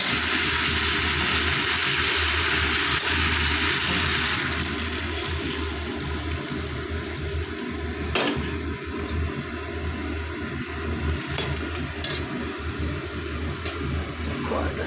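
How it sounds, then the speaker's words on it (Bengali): Water poured into a pot of simmering egg and potato curry, a steady rushing pour that is loud at first and then settles into a softer bubbling hiss, with a faint background hum. "এবার জল ঢেলে দেবো"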